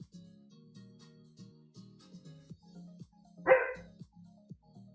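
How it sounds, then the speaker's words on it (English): A dog barks repeatedly at a steady pace, moderately close, with one sharper louder bark near the end; no talking over it. "I don't know what you're barking at."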